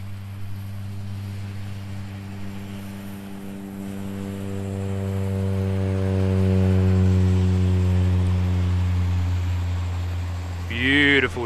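A Cessna Caravan turboprop departs Queenstown Airport in snowy alpine conditions, its steady propeller drone swelling to a peak and holding, with a brief sharper noise near the end.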